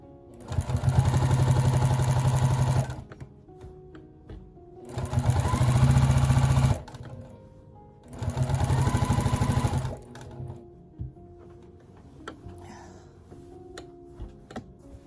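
A sewing machine with a walking foot quilting fabric, running in three loud, steady, close bursts of about two seconds each, with quiet handling clicks in the pauses.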